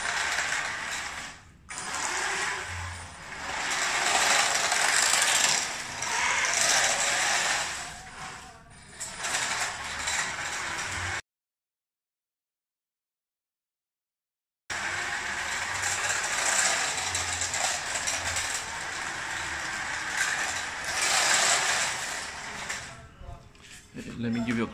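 Tracks and wheels of an RC tank with improved track wheels rotate with a whirring, ratcheting mechanical clatter, steady and close, in two runs split by a few seconds of silence, while someone talks over them.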